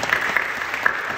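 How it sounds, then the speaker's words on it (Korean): Congregation applauding during a Friday night prayer service at a church, a steady wash of clapping from many hands throughout, fairly close and even. "박수를 격려해 주시고"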